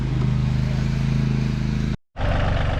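A John Deere 2032R compact tractor dragging a food plot runs with a loud, steady, close engine drone that cuts out briefly near the end before resuming.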